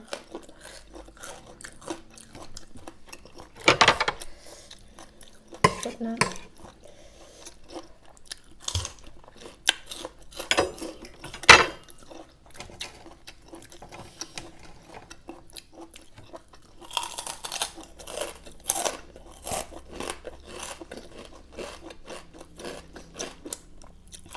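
Chewing crunchy, spicy giant squid tentacle salad served with fresh vegetables, close-up bites and crunches in irregular bursts over about twenty-four seconds, louder stretches mixed with quieter munching, with no talking.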